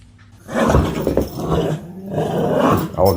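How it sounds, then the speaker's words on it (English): A dog growls and snarls in two long, loud, rough bursts with a short pause between them, with no one speaking. "Oh, the dog's gone mad."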